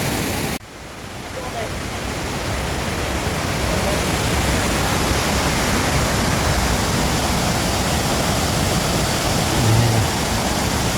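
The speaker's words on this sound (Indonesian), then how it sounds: "air terjun yang kemudian sampai ke dasar curugnya itu kemudian mengalir bersama menuju sungai yang di bawah tadi" The Curug Malela waterfall pours down into a river, producing a steady, loud, broadband rush of falling water that continues without a break and with no voices.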